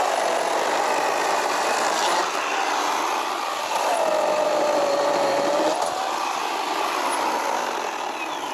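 A RYOBI cordless chainsaw cuts through wood with a steady, loud, continuous buzzing whine that holds nearly level for the whole stretch, close and without any talk.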